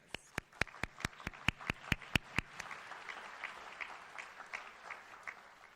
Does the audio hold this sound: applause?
yes